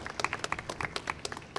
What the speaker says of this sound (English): So let's give a big cheer for that.